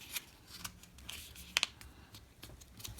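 A sheet of paper is folded in half and folded again for a mini notebook. The sound is a series of quiet crisp creases and rustles, with two sharp snaps near the middle.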